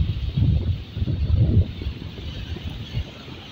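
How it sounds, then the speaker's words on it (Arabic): A sea breeze buffets the microphone by the shore, rolling low gusts rising and falling in a steady rush of air, with no one talking. "شوية هوا يرد الروح."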